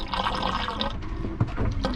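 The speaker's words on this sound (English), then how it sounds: "The noise in the sink is because the drain there goes off the side of the boat" Water gurgles and rushes in a sailboat's sink drain, which empties over the side of the boat while it heels on a tack in the Gulf of Mexico; a steady, close, splashy churning continues throughout.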